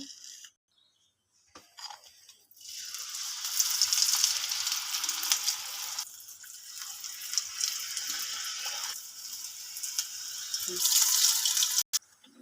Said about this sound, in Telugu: దీంతో మీకు చిన్న చిన్నగా పొంగడాలు వేసి చూపిస్తాను చూడండి